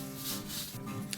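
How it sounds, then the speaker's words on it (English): Fine steel wool rubs gently over the porcelain-enamel lid of a Weber kettle charcoal grill, giving a soft, close scratchy scrubbing in short continuous strokes with no talking. "with my steel wool, I'm just gonna just go around gently rubbing that solution all around"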